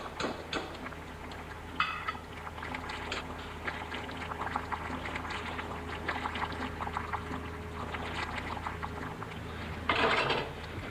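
Water trickles and splashes as cooked beans are drained in a kitchen, a quiet, uneven pour with a louder gush near the end and no voices.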